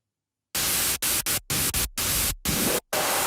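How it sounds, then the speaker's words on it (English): Bursts of harsh white-noise static from a synthesizer, starting abruptly and chopped into a rhythmic on-off pattern of short blasts. "What I do is I turn oscillator 1 onto this noise setting"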